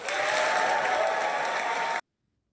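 Crowd applause after a speech, a dense, steady burst of many hands clapping at close range that cuts off abruptly after about two seconds.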